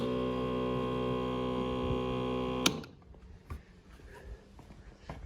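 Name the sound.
electric water pump running, 4x4 water bladder setup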